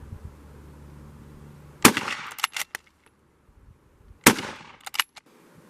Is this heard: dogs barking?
no